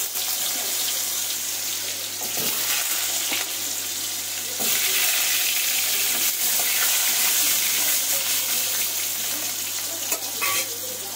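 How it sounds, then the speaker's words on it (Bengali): Potatoes fry in hot oil in a home kitchen, giving a steady, dense sizzle and crackle that holds for about eleven seconds with no voices over it. "এবার পটলগুলো কিন্তু আমি আলুগুলোও ভেজে নেব।"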